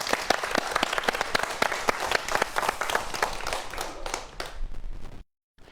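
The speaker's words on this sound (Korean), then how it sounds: "박수 부탁드립니다" Audience applause for a researcher introduced at a Korean science lecture, brisk clapping from a modest crowd with sharp individual claps standing out, thinning toward the end before cutting to silence.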